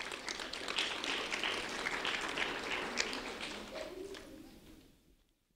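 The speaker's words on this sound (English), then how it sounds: "a round of applause for Sterling Owen, please" An audience applauds a third-grade student being honoured at a sheriff's office recognition event: a faint, dense wash of clapping that holds steady and then fades out near the end.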